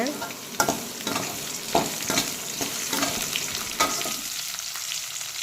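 Garlic and onions sizzle and crackle steadily in oil in a pan, with occasional scraping stirs cutting through the frying hiss.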